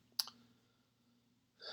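A single sharp mouse click on map markers in a mapping app, quiet and close, followed by low steady hum and a faint rustle near the end.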